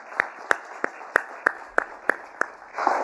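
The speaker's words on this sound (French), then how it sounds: "Et je veux qu'on les applaudisse" Applause from an audience at an aeronautics industry event in Morocco. About nine sharp, evenly spaced claps ring out, moderately close, and a brief burst of noise at the end.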